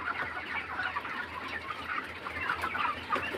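Many broiler chickens cluck in a dense, continuous chatter on a farm as they are weighed, with no pauses and no voices.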